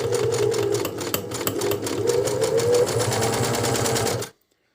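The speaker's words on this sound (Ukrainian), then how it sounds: "Ясне діло, що це дуже товсто для швейної машинки. Ну, подивимося. Вона сама йде." A Singer 5810C Samba70 sewing machine stitches through thick fabric in a fast, steady mechanical rattle, close and loud, running for about four seconds before stopping abruptly.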